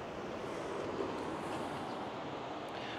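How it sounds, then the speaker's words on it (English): Rushing water of a river swollen after a night of rain near Agia Galini, Crete, forms a steady broadband roar heard alone, mixed with some wind noise. "now this river is full of the water"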